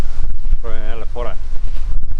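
Strong outdoor wind buffets the microphone in a steady loud rush, with a voice talking briefly over it.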